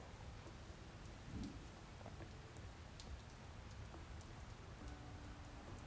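Steady rain falls evenly with a soft low rumble beneath it and scattered drop taps, with no voices.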